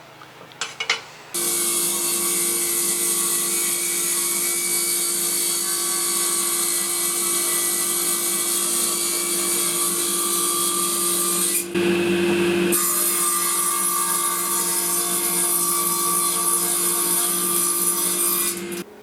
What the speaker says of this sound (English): What I'm just going to do now, I'm just going to cut a piece off it just to get rid of the daggy bit